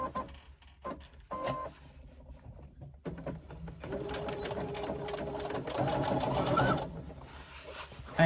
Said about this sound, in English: I need to sew my base at 1/2 inch on my lining